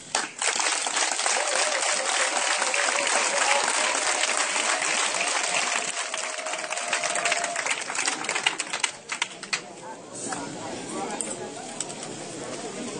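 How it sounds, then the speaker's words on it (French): A large crowd applauds and cheers for ten seconds to welcome the prophet Krasso at a religious crusade gathering in Brabodougou, dense and loud, thinning toward the end as scattered claps remain. "je demande à toute la population de l'acclamer"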